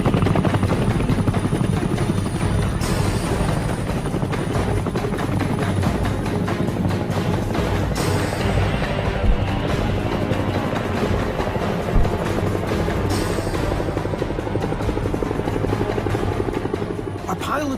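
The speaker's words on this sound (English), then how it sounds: "forcing U.S. choppers to come to their rescue" U.S. military helicopters fly in the Vietnam War during the 1971 Lam Son 719 operation, a loud, continuous rotor chop throughout, with someone narrating over it.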